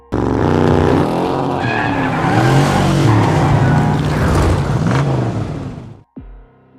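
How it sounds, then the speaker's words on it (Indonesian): A modified car skids with loud, continuous tire squeal and engine roar lasting about six seconds, then cuts off abruptly, followed by a brief quieter sound. "Brian yang sudah memodif mobil, ia pun langsung mengetes mobil tersebut sekaligus mengasah skill Brian dalam menyetir."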